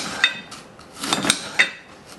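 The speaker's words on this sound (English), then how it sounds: "The next thing I want to do is pick up my green cabbage. I'm going to cut the same way." A knife cuts a head of green cabbage lengthwise into thin strips for coleslaw, giving several sharp, crisp chops against a board, close up and fairly quiet, with no talking.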